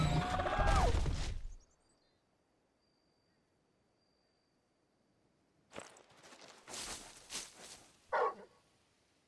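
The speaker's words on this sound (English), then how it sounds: "Bark. Is something there, boy?" A dog barks in the Final Fantasy XVI video game, a loud burst at the start followed by quiet, then several rustling sounds and a sharp bark near the end.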